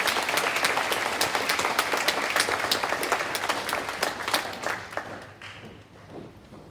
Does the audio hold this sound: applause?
yes